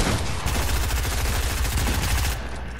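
Rapid gunfire in the video game Fortnite, a dense, loud, continuous volley of shots lasting nearly three seconds with no talking.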